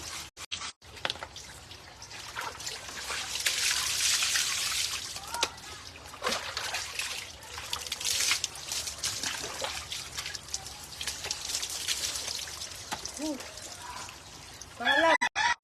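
Water pours and splashes steadily during an outdoor bath, a continuous close trickle and splatter with occasional voices and movement in the background.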